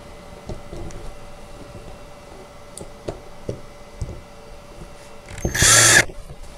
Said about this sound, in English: screw in each of these four holes in each wheel